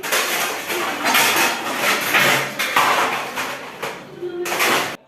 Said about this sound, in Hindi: टोकरी में जो बर्तन है इन्हें भी लगा दूँगी ताकि स्लैब खाली हो जाए